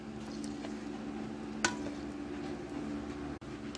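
Careful stirring of a Mexican-style sardine mixture in a pan, a steady low sizzle with soft scraping and a single sharper clink partway through, close and continuous with no talking.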